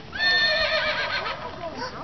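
Horse neighing nearby, a loud, drawn-out whinny that rises and then trails off, with a voice heard around it.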